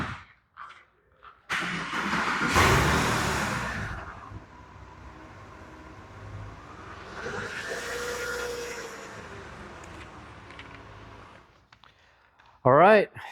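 A 2003 Porsche 911 Carrera engine cranks and catches, then idles and revs with a steady mechanical drone, ending in a brief sharp burst.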